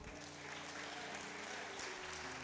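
Church congregation clapping hands in praise during a sermon, a dense, steady wash of applause that runs evenly throughout without any voices on top.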